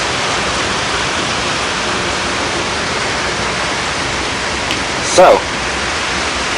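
Rain pours outside a workshop in a steady, dense hiss of falling water, unbroken from start to finish, while someone speaks one brief word near the end.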